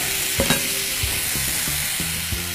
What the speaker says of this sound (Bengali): খুব ভালো করে মিশিয়ে নিয়ে এখন গরম তেলে ছেড়ে দিব